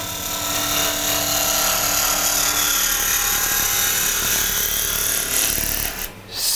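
A wooden slingshot handle being roughed out on a lathe: a steady, loud whirring drone with continuous rough cutting and rubbing of the gouge on spinning wood, holding level throughout before a brief dip near the end.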